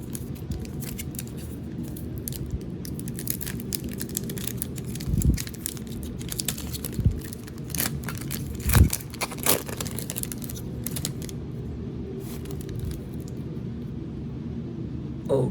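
A Prism cello pack of NBA trading cards is torn open by hand, with a steady crinkle of plastic wrapper and a few sharper rips and crackles up close, no talking over it.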